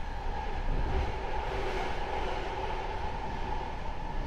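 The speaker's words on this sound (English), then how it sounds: "Crowded train for this hour." Crowded passenger train running, a steady loud rumble with rolling wheel noise and a faint hum from inside the car, no voices.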